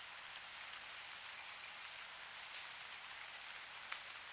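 Steady rain falls in a soft, continuous hiss with no pauses, fairly faint and even, broken by a few louder drop ticks.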